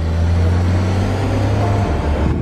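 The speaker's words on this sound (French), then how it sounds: "là c'est un petit combo de Porsche, convoi de Porsche" Several Porsche cars in convoy on the road at a supercar owners' event give off a steady, loud low engine drone that holds constant and then shifts slightly as the cars move along.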